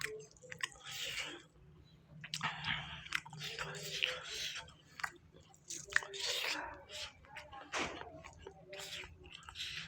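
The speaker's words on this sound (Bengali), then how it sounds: "আমার খাওয়া দেখবেন।" Close, wet chewing and biting while eating potato-cauliflower curry with a fried egg, with soft squishy mouth sounds and light crunches recurring irregularly throughout, plus faint background murmurs.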